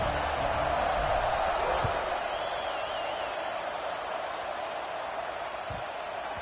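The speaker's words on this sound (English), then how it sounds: "this crowd is buzzing after that last score" A football stadium crowd at an NCAA game buzzes steadily as a dense, continuous roar that holds level throughout, with no clear speech on top.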